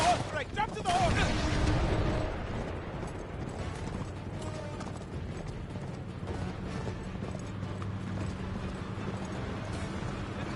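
A horse gallops during a chase in Uncharted 3, with rhythmic hoofbeats running steadily under loud game action, bursts of impact noise and shouted speech over the top.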